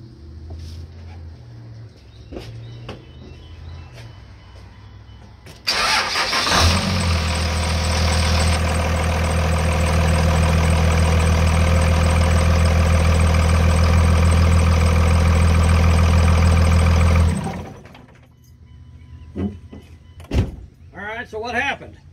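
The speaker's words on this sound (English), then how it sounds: "now I'm going to go start the truck" A Cummins diesel truck engine cranks and catches, then idles steadily and loudly for about twelve seconds before shutting off, with a voice speaking faintly before it starts and a door sound near the end.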